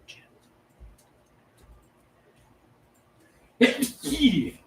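A single sharp sneeze bursts out near the end, after a stretch of quiet room sound with a couple of soft thumps.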